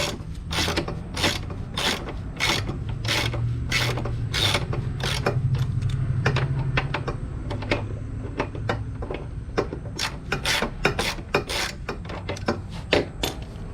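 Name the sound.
removing motorcycle front axle bolt, Suzuki GSX250R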